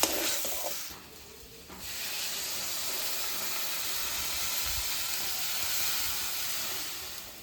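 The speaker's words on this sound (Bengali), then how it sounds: "এইবার আমি যে উচ্ছেটাকে ভেজে রেখেছিলাম সেটাকে এর মধ্যে দিয়ে আমি আরও 2 মিনিটের মতো মশলাটাকে কষাবো।" Spice paste frying together with fried bitter gourd, a continuous loud hiss and sizzle close by with brief stirring noises and a short dip in the middle, no talking.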